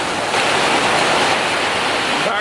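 A river rushing close by, heard outdoors at a woodworking spot during stormy weather: a loud, steady broadband roar of flowing water that fills the whole stretch without pause.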